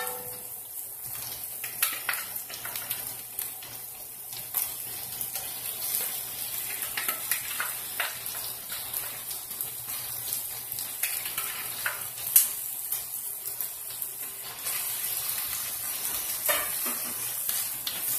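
Meat being stir-fried for ampalaya with quail eggs sizzles continuously in the pan, with scattered crackles and spatula scrapes throughout and no talking.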